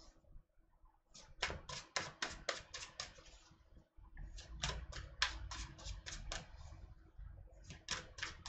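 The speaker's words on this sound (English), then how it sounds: "So let me shuffle for Taurus." A deck of tarot cards being shuffled, rapid bursts of crisp riffling flicks in several runs with a brief pause between, close and fairly quiet.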